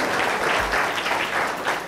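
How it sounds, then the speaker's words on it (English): Applause for the Hindu College team at a politics quiz show, a steady dense crowd clapping that holds loud throughout without a break. "huge round of applause for you all"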